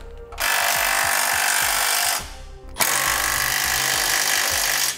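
Loud bursts of a power impact tool or air ratchet driving nuts with a 3/4-inch socket while installing a Curt trailer hitch receiver on a 2003 Ford van, two sustained runs separated by a brief pause.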